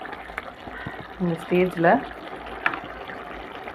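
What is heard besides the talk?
brinjal simmering with tamarind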